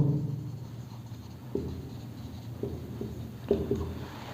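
Chalk or marker strokes on a classroom board while a formula for the formula mass of magnesium is written during a class 9 chemistry lesson; several faint, scratchy taps and strokes over a quiet room hum, with no talking.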